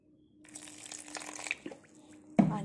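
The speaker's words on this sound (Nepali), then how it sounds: "अनि यसमा अब पानी एड गर्नेछु" Water is poured from a container into a bowl of flour, a soft trickling splash that swells and then stops, followed by a few scattered knocks and a louder clunk at the end.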